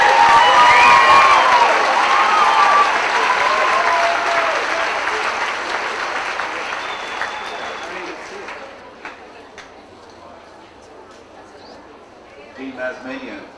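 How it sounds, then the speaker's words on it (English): Graduates at a 2003 university commencement ceremony are greeted by loud audience applause and cheering that fade gradually into scattered claps, with voices audible as the clapping dies down. "Let's give a round of applause now to the Planning and Development, Public Policy and Management, and Public Policy Management and Planning graduates."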